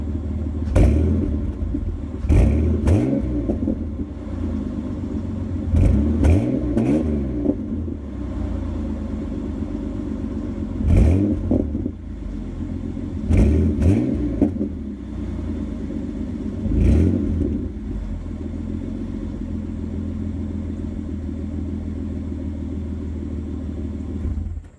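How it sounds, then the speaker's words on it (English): A Ford Explorer engine idles with a low rumble, broken by several short revs that rise and fall in pitch, spaced irregularly across the stretch with the idle steady between them. "I'll rev it a couple times, and then that'll be it for the video."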